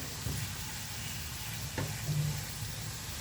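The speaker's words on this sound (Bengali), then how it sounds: "এবার এটাকে একটু সামান্য পরিমাণের লবণ দিয়ে ভালোভাবে নেড়ে চেড়ে হালকা ব্রাউন করে ভেজে নেব" Chopped ginger and onion frying in hot oil with a pinch of salt, a steady close sizzle with occasional stirring scrapes in the pan, continuous throughout with no voices.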